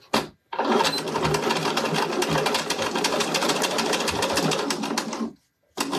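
A sewing machine with a zipper foot stitches the final assembly seam of a zip pouch, running steadily and close for about five seconds with a rapid mechanical patter, then stopping briefly and starting again.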